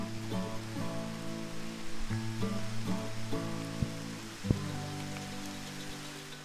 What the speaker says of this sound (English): apologies if you hear the raindrops hitting the microphone